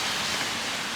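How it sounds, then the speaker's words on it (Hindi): Heavy rain pours outside in Manchester, UK, a dense, steady hiss for about a second with no voices. "बाहर की ये सिचुएशन लगी हुई है, बारिश हो रही है पूरे ज़ोरों से।"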